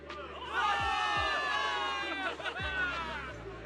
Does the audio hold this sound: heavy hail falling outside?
no